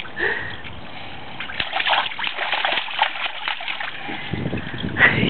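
A child splashes and sloshes water continuously in a pool nearby, with irregular bursts of splashing and a brief squeal at the end.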